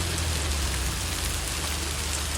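Hail falling in Greeley, Colorado, a dense, even hiss of stones striking surfaces with a low rumble underneath, continuous and fairly loud with no voices.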